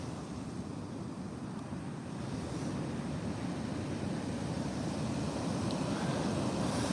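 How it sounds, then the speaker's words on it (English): Ocean surf rolls onto the Oregon coast in a steady, broadband wash, with wind buffeting the microphone and no distinct individual wave breaks, continuous and moderately loud throughout. "The waves are kicking out there"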